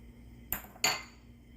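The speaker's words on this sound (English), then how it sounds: "And we're going to stir that up nicely. We want the sugar dissolved." Two sharp clinks of a spoon against a pot or bowl as sugar is stirred into cinnamon-spiced red wine for infusing cherries, close and fairly quiet, with no talk.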